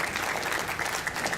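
An audience at a Rotary Club award ceremony claps for a young award recipient, a brief, moderately loud patter of applause from a smallish room.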